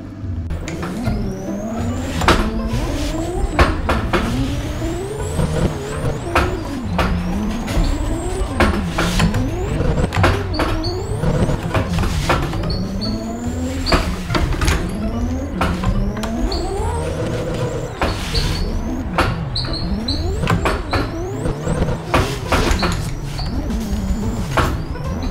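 A 4,000-horsepower drift car engine in the video game Assetto Corsa screams through repeated revs and gear shifts, pitch sweeping up and down over and over, loud and close, with no talking.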